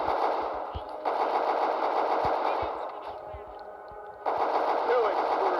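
Rapid automatic gunfire rattles in bursts in the video game Gang War Mafia, with sharp individual shots between them. Loud and close, with a brief drop in intensity midway before it resumes.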